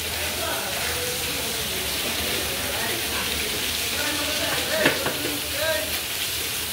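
Fish fries in hot oil, a steady loud sizzle with bubbling crackle throughout and occasional sharper spits, while background voices murmur.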